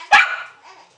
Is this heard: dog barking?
yes